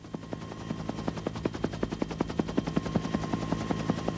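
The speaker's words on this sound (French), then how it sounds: "On mobilise une escadrille de 4 hélicoptères Cobra stationnés dans une base près de la frontière koweïtienne." Cobra attack helicopters take off from a base near the Kuwaiti border, rotor blades beating in a rapid, steady rhythmic thump under a constant engine whine, loud and sustained.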